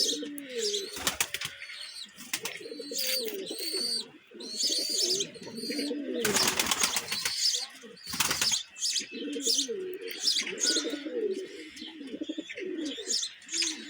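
Pigeons coo in low, rolling calls, interrupted by a few sudden bursts of wing flapping close by.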